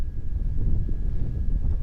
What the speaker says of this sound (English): very windy actually that day